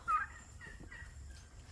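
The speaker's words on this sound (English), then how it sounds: "Turkeys are in there." A turkey on a small farm gobbles once near the start, a brief faint call with a few softer calls after it, heard from a little way off over quiet outdoor ambience.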